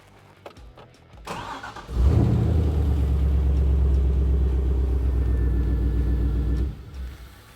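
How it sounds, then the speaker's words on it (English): A Triumph project car starts up with a short crank, then settles into a loud, steady low rumbling idle that runs for several seconds before cutting off, close by and with no talk. "Yes, my Triumph project runs."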